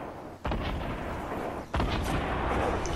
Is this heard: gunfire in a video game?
yes